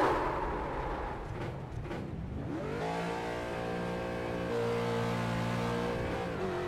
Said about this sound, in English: You can hear when that axle or something is broke, it's hard for the car to drive.